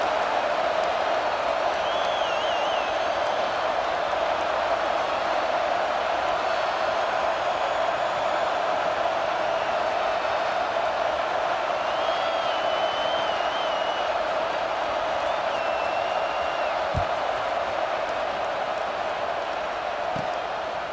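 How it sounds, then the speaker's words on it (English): Stadium crowd noise from the College Football 26 video game, a steady, dense roar of fans holding at an even level throughout, with a few faint whistles and whoops rising above it. "boy, did that last drive quiet this crowd"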